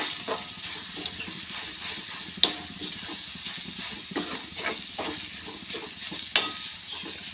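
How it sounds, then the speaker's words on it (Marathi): Ground masala paste being sautéed in a pan, a steady close sizzle with a few sharp clinks of the spoon and regular stirring scrapes throughout, no voices. "आता जे वाटण आपण वाटलेलं आहे ते पूर्ण वाटण यामध्ये आपल्याला टाकायचं आहे आता आपल्याला परतून घ्यायचं आहे"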